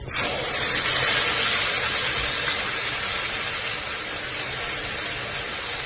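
Spice paste dropped into plenty of hot oil for Kashmiri dum aloo gives a strong, steady sizzle that surges at the start and carries on loud and even, with no talk over it.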